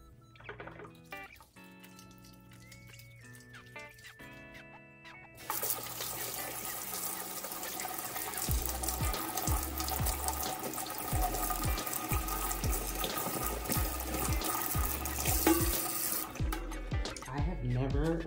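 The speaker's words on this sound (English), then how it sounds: "Then I'm gonna wash my hands." Kitchen tap running into a sink while hands are washed: after some clattering and brief pauses, a steady close rush of water starts and continues, then cuts off near the end.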